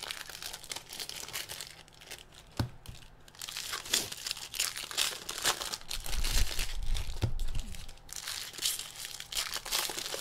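The plastic wrapper on a jumbo box of 2015 Bowman Baseball cards is ripped open by hand, with close crinkling, crackling and tearing that continues unevenly for about ten seconds.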